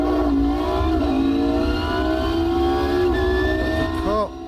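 A GT1 race car engine in the racing simulator Automobilista 2 revs loudly and climbs steadily through the gears, with a pitch drop and shift near the end.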